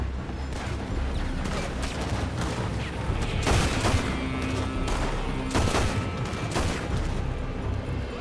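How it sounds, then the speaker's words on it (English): Scattered gunfire from a building in Red Dead Redemption 2, a few sharp shots and short volleys sounding at mid distance over a steady wash of ambient noise. "They're shooting from that building."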